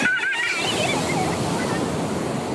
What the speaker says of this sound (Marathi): हे समुद्राच्या लाटा कशा येत आहेत एकामागून